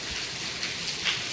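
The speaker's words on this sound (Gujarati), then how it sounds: "અહીંયા જો વરસાદ ચડ્યો, બહુ આવ્યો વરસાદ આજે તો।" Heavy rain falls in a village, a soft continuous patter of drops on surfaces heard for a short moment with no one talking.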